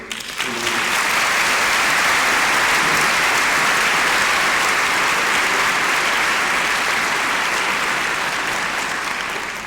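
A large graduation audience applauds, a loud, dense wash of clapping that swells quickly and holds steady for nearly ten seconds before easing slightly, with no speech over it.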